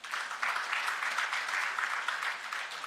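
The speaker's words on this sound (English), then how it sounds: "a round of applause one more time" A crowd at a business ecosystem summit in Kisumu gives a round of applause, dense steady clapping heard from a distance, even and sustained throughout without a break.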